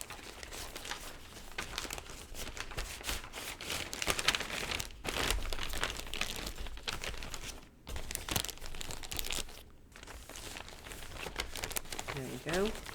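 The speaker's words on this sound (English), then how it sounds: "You can put them in this zip top bag." Small vocabulary study cards slid into a plastic zip-top bag, giving steady crinkling and rustling of thin plastic throughout, close by, with a person talking over it.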